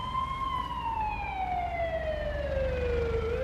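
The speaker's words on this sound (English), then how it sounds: "the volume of the siren isn't too bad" An emergency vehicle siren from the Farming Simulator 19 video game holds a steady tone that slowly falls in pitch, loud and continuous, with a low engine rumble beneath it.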